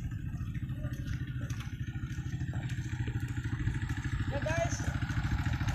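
Motorcycles on a rough road, their engines chugging in a steady close rhythmic putter that runs throughout, with someone speaking briefly over the noise.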